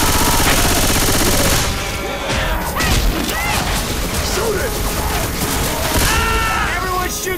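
Survivors fire rapid bursts of gunfire at a Tank in Left 4 Dead 2 in the Dark Carnival setting, dense clattering shots and mechanical clanks mixed with game effects and voices calling out.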